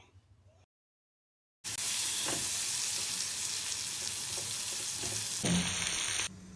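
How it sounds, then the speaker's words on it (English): Paneer seasoned with salt, turmeric and Kashmiri red chili powder frying in a pan till golden, a strong continuous sizzle that starts abruptly after a brief quiet gap and holds steady, with occasional light stirring knocks. "Fry it just till golden."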